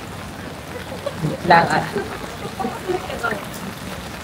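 Steady rain patters on a Tokyo street in a soft, continuous hiss, while a person talks quietly over it.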